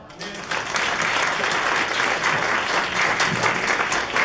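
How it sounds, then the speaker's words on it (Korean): Warm, sustained applause from an audience at an installation ceremony for a business association's chapter president, steady and full for several seconds. "다시 한번 뜨거운 박수 부탁드리겠습니다"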